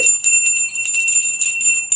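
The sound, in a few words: small golden apple-shaped bell ringing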